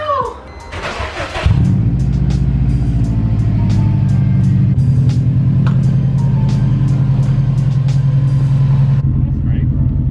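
A loud straight-piped RV engine cranks and catches, then settles into a deep, raspy, throbbing rumble with a few blips of throttle, ending with a slight drop.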